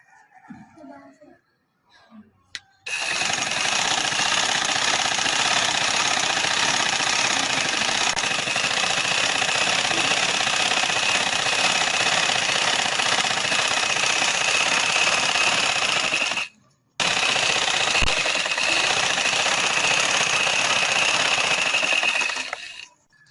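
Sewing machine stitching the slit of an open shirt, a fast continuous mechanical whir running for long stretches with a brief stop partway, preceded by soft handling noises.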